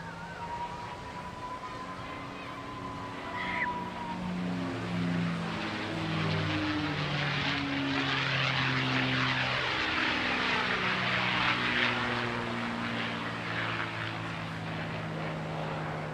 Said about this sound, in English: It's certainly an aircraft that most pilots of my vintage would very much like to fly.